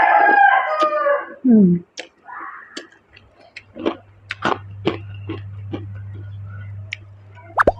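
A rooster crows loudly and close by at an outdoor Thai meal of spicy papaya noodle salad with fresh vegetables. Chewing, clicks and a steady low hum follow.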